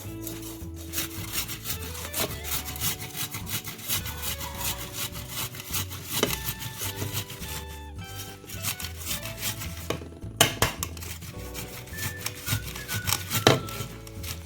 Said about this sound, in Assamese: এয়া মই বিলাহীকেইটা এতিয়া মই ৰুকনিখনতে ৰুকি লওঁ।